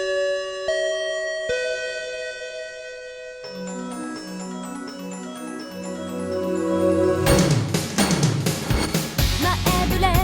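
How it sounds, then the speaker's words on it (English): Bell chimes ring out in clear, spaced tones to close a podcast episode, leading into a louder musical jingle that builds toward the end. "That's the bell, isn't it?"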